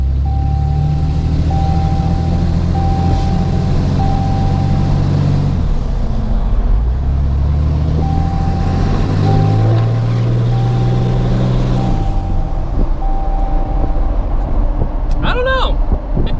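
A big diesel truck engine with a turbo and exhaust brake rumbles steadily at close range, its low drone rising and falling as it revs, with a brief hiss near the end.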